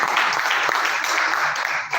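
Audience applause at a pension plan announcement event, a dense burst of many hands clapping together for about two seconds, fairly loud and unbroken.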